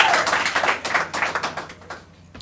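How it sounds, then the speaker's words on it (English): A crowd at a ribbon-cutting ceremony for a store claps for the mayor, a burst of close, dense hand claps that thins into scattered taps over a couple of seconds. "Let's get a round of applause for the"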